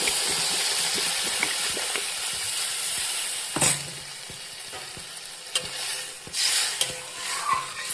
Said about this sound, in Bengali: এর মধ্যে জল ঢেলে দিলাম।